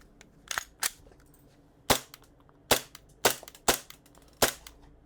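An airsoft pistol test-fires with a semi-auto and full-auto selector: seven sharp, loud cracking shots, two close together, then single shots spaced unevenly, each with a short tail, and no talking.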